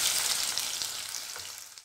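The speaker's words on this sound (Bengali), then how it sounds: "এবার পেঁয়াজটা একটু ভেজে নেব।" Onion frying in mustard oil, a dense steady sizzle that fills the short moment alone and cuts off abruptly at the end.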